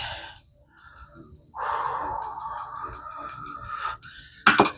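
A small bell with a tassel rings in quick, bright repeated tinkles alongside a sustained humming tone, ending in a sharper clatter.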